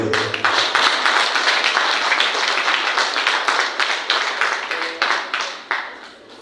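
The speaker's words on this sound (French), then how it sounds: "sous vos applaudissements, s'il vous plaît" An audience of women magistrates in Senegal applauds a gift presentation at their association's general assembly, loud close clapping that is dense at first and then thins into scattered separate claps.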